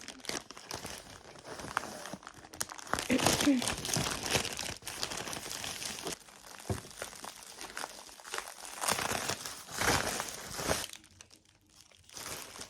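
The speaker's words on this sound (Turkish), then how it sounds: "Ve kargo açıyorum." Cargo package being opened by hand, plastic and paper packaging crinkling and crunching in repeated close bursts with occasional tearing, fairly quiet, with brief speech mixed in.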